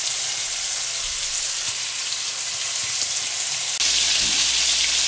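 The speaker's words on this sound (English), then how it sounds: "We are working away here at cooking our burgers." Country-fried burger patties with a crispy coating fry steadily in a pan, giving a dense, continuous sizzle that sits close and loud, swelling slightly near the end with no voices over it.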